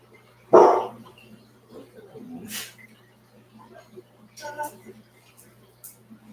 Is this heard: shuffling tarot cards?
no